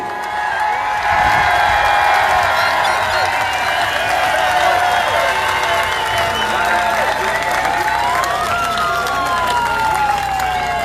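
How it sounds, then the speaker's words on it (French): Large outdoor protest crowd in Montreal applauding police outside the Sûreté du Québec headquarters: sustained loud clapping and cheering with whistles and whoops, with voices mixed into the din throughout. "Je pense qu'ils sont contents, les policiers, là, de se faire applaudir comme ça leur fait du bien."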